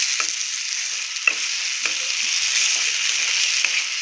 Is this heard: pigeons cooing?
no